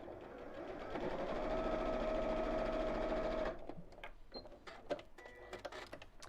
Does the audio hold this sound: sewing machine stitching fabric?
yes